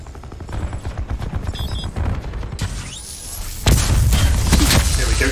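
Bursts of LMG fire in Call of Duty Black Ops 4, with rapid close shots, a sharp crack and a louder sustained volley near the end, loud and without speech.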